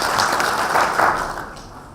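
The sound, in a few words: applause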